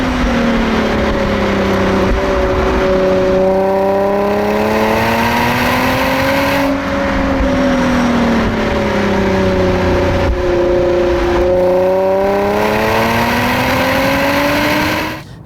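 A Nissan 350Z engine revs hard through heel-and-toe downshifts, its pitch rising and falling in repeated sweeping blips over a steady, loud drone that runs continuously with no voices.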